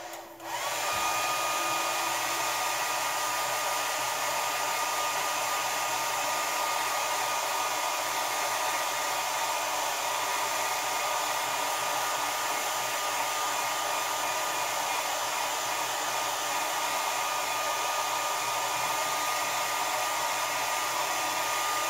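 A hair dryer blows steadily on a homemade prop magical-girl wand, a loud, continuous near whir with an even airflow hiss that holds without pause throughout, no voices over it.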